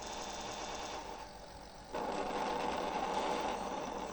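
An airplane booster engine in a Roblox game gives a steady mechanical whirring hum that jumps louder and brighter partway through as the booster kicks in, with no talking.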